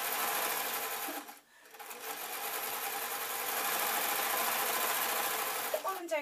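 Fast, noisy sewing machine running a long straight stitch along piping binding on a satin apron, a loud continuous whir that breaks off briefly and then resumes, ending with small clicks.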